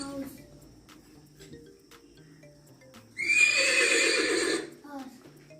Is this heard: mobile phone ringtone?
no